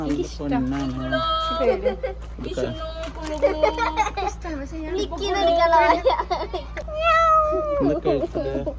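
A cat meows several times, the calls rising and falling in pitch, mixed with a voice speaking nearby.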